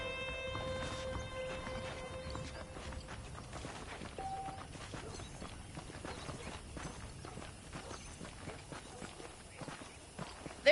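Horses walk along a western town street in Red Dead Redemption, with faint, steady hoof clip-clops repeating under quiet game ambience.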